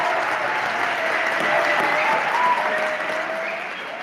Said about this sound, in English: I want you to give a round of applause to the OKAF